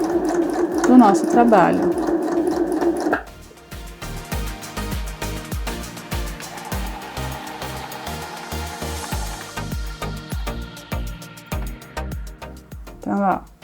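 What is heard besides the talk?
sewing machine stitching a seam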